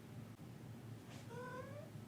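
A cat sitting on a desk gives one clear meow partway through, a short rising-then-falling cry, close but soft against a quiet room hum.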